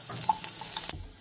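Onion going into a hot pan with fried grated ginger for pasta, a soft, quiet sizzle with a few small stirring clicks and taps of utensil against the pan.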